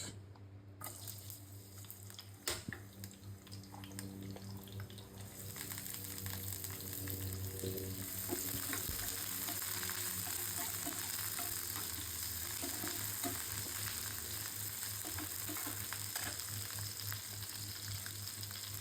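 Onions frying in oil for a stinging catfish and potato curry, a soft hiss that thickens into a steady, even sizzle after a few seconds, with a light clatter early on.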